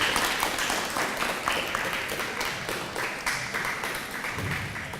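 An audience at a morning speakers bureau event applauds a woman invited to the stage, sustained dense clapping that carries on evenly for several seconds before easing.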